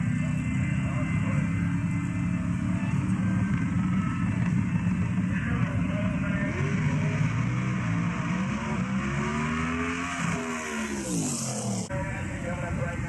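A Pro 275 drag race car on a qualifying run at Lights Out 12, South Georgia Motorsports Park, roars loudly and continuously with rising engine pitch, while people talk over it throughout.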